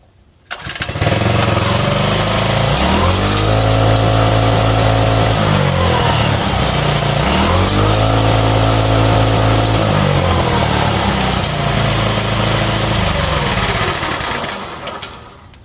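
A CT100 minibike engine with its governor bypassed starts and revs hard in loud, close surges, rising and falling in pitch between roaring pulls before cutting off at the end.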